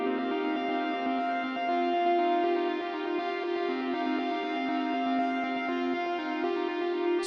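A modular synthesizer patch holds a steady, rich tone with subtle periodic wavering from slow LFO modulation, continuous and even throughout with no voices.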